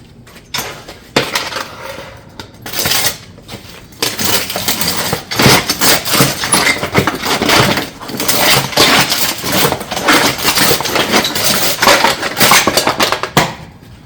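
Metal roof ridge panels cut after bending, with loud harsh grinding and rattling metal bursts that start and stop, then run fairly continuously at close range.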